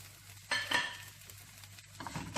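Chili is tossed in a hot pan with brown sugar while cooking crispy beef chili dry, giving a soft sizzle and a couple of quick stirring scrapes with no talking.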